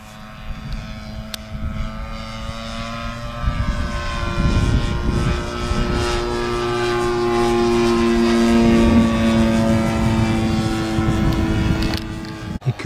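A President T-240 model airplane with a petrol engine flying overhead, its droning propeller engine rising and shifting in pitch as it passes, loud and continuous throughout.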